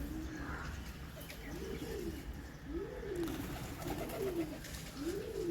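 Racing pigeons coo inside their coop with a regular series of soft, rounded calls repeating roughly every second over a steady background hiss.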